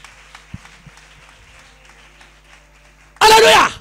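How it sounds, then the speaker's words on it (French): A church congregation bursts into loud, dense applause for Jesus at the very end, right after a stretch of near-quiet with faint low murmurs. "Clap for Jesus."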